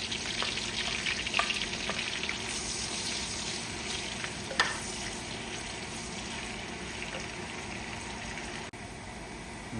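Ginger frying in hot oil in a pan for chicken afritada, a constant fine sizzle with a few soft clicks and taps of a utensil, fairly quiet and unbroken, with no one talking.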